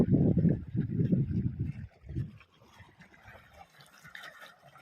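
Irrigation water running into a sown summer mung bean field, a low, full rushing flow that is loud at first, then drops after about two seconds to a softer, steadier trickle, with no voices.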